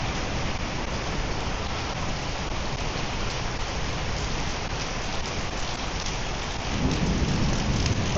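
Heavy rain pours down steadily during a thunderstorm, with low thunder rumbling beneath the dense, hissing downpour, swelling slightly near the end; no voices.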